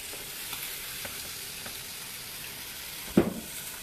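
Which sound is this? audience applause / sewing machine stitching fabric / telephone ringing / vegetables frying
vegetables frying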